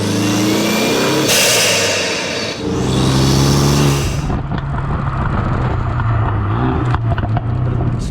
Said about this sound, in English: listen to what that blow-off valve sounds like